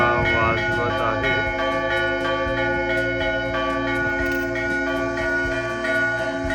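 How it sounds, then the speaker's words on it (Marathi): A church bell is rung by a priest at Bagrati Cathedral in Kutaisi, Georgia, its sustained metallic tones ringing steadily and overlapping with a faint murmur of voices in the background. "तो एक प्रीस्ट आहेत, ते तिकडे घंटा वाजवत आहे."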